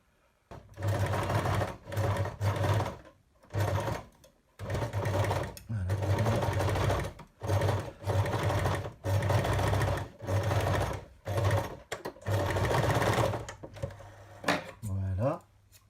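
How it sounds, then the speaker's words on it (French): Sewing machine stitching a fabric face mask made without elastic, running in loud rhythmic bursts with brief stops in between, close and clear. "Ensuite, je peux commencer à coudre."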